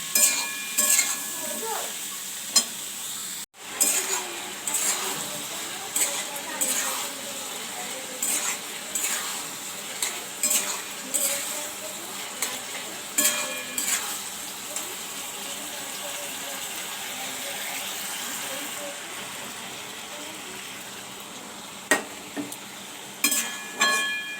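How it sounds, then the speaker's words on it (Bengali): Ridge gourd and potato pieces fry in a pan while a spoon stirs them, giving a constant sizzle broken by regular scraping strokes and a few clinks, close up. "আলুর সাথে ঝিঙেগুলো দিয়ে দিয়েছি"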